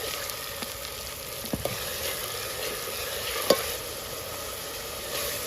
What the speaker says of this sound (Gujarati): આ બધી વસ્તુને આપણે તેલમાં થોડી વાર માટે ચડવા દઈશું એકદમ ધીમા તાપે